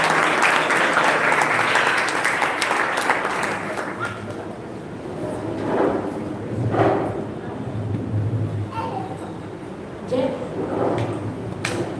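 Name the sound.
audience applause welcoming host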